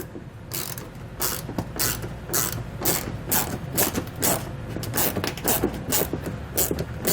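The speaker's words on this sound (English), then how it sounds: "we're going to use the included Torx bit to remove those" A ratchet driving a Torx bit clicks in quick repeated bursts while removing factory fasteners from the wheel well of a 2021 GMC Canyon, close and fairly loud, with no speech.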